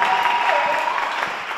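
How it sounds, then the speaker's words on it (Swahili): A church congregation at a large national Christian students' conference applauds, dense steady clapping from many hands that fills the whole short stretch. "ungenisaidia kumpigia Bwana makofi mengi"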